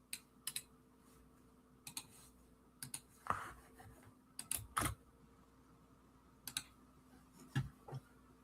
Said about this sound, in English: First, we're going to type in barbers in Reagen County.